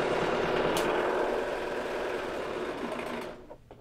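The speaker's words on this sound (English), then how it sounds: "I'm just gonna stitch directly on these lines and we'll be right back." Steady, loud sewing machine stitching runs along marked lines on quilt block squares for a Hunter's Star quilt, then winds down and stops near the end, with no talking.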